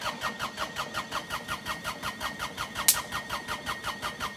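A vehicle engine run hard at full throttle, with a fast, even pulsing chug repeating steadily and one sharp click partway through, with no voices.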